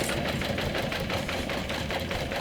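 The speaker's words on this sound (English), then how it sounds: "you can go ahead and do another row of stitching" A sewing machine runs a second row of stitching along a backpack seam, its rapid, even mechanical chatter going on without a break, close and fairly loud.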